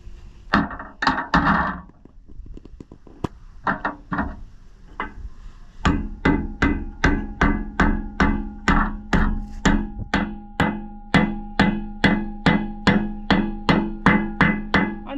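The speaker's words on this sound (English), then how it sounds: "I'm sure there's some type of nice tool to install those, but hey, a hammer works fine" A hammer drives a part onto a trailer tire with sharp metallic blows, first a few scattered irregular strikes and then a long, steady series of evenly spaced, loud hits at close range.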